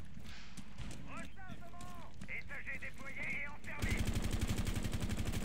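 Rapid, steady gunfire from a Rainbow Six Siege competitive match takes over in the final seconds, following an earlier stretch of game effects and chirps, with commentators talking over it.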